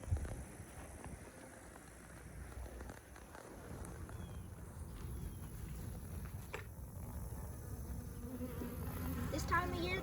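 Honeybees buzz steadily around painted beehives drawn to sugar water, a continuous close, soft droning hum with a few brief knocks.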